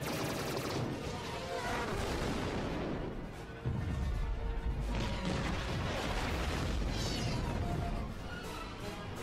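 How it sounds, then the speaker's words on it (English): Dense blaster gunfire and explosions fill a Star Wars Clone Wars 2003 cartoon space battle, loud and continuous with crashing booms throughout. "A lot of gunfire."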